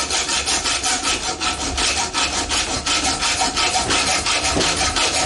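Small piece of copper being cut by hand during brass and copper recycling: steady, close rasping strokes repeat in an even rhythm throughout, with no talking.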